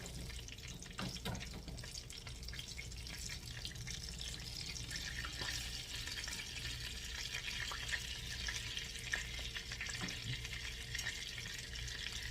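Pork chops frying in a pan, a steady broadband sizzle and crackle running continuously at moderate level, with occasional clicks and small clatters and no talking.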